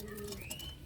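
A pigeon coos once, a short, close, soft call heard alone.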